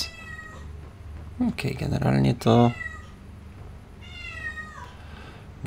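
A cat meows in Skyrim Special Edition, a couple of clear, close meows followed by a longer wavering cry, with someone speaking briefly between them.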